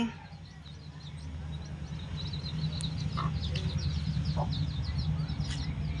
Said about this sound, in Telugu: చిన్న కోడి పిల్లలు తీసింది.